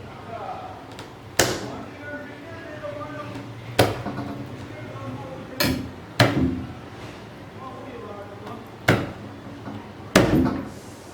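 Garlic cloves crushed by firm blows for a greens stem soup, six sharp separate thuds spaced a couple of seconds apart, close and distinct, while a voice talks quietly through the gaps.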